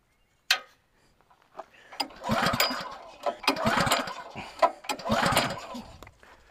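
Attempts to start the engine of a SuperSplit HD log splitter, with a sharp click followed by several bursts of mechanical cranking and rattling that stop without catching. It is close and moderately loud.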